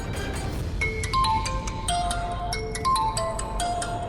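A mobile phone ringtone chiming while a call is placed, a repeating melodic pattern of bright tones cycling several times at moderate volume, with no voices over it.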